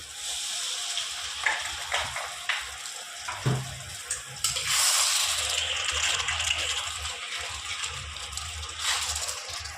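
Water poured into frying spices for a Bengali mixed small-fish chorchori, a steady splashing gush with a faint sizzle underneath, close and moderately quiet.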